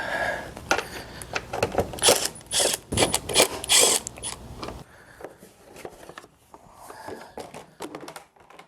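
Two 10mm bolts being loosened from the fuel pump housing of a Hustler zero-turn mower, with rapid ratchet clicks in bursts, loud and close at first and then quieter with scattered taps.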